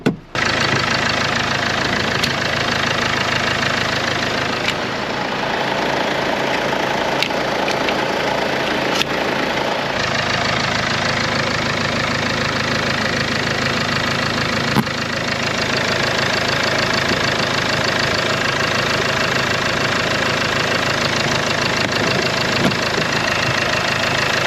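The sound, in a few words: Land Rover Discovery Sport diesel engine idling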